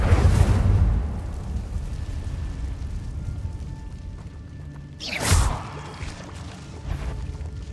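The Incendio fire spell in Hogwarts Legacy sounds as two sharp, fiery bursts, one at the start and a louder one partway through, each fading quickly over a quiet ambient background.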